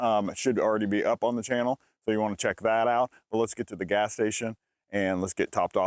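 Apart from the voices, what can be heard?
No distinct noise like a dog, phone or traffic.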